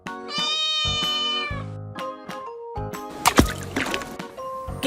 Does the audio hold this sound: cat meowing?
yes